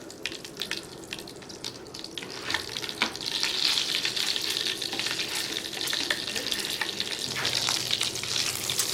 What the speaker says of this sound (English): you see how we're starting to brown the butter a little bit?